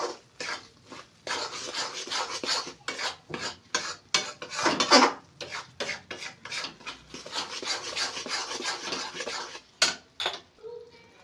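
A spoon stirs and scrapes a fenugreek and flour mixture around a pan in repeated rasping strokes, fairly close, with uneven rhythm and brief pauses.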